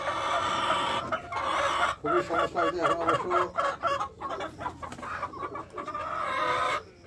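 Backyard chickens recovering from a cold cluck and cackle in quick, uneven bursts close by, while someone talks over them at the start.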